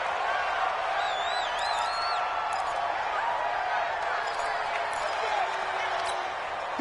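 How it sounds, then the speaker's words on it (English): Dense stadium crowd cheering at a PS4 football game, a steady loud roar with whistles and scattered shouts rising over it before a big third down. "the crowd getting into it as we come up on a big third down"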